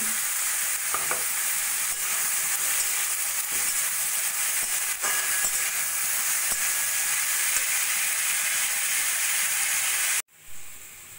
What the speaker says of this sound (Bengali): এবার সবকিছু ভালো করে একটু ভাজা ভাজা করে নেব।